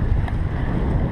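Strong wind buffets the microphone aboard a sailboat racing at the Voiles de Saint-Tropez 2017 regatta, a loud, steady, low roaring rush with no voices.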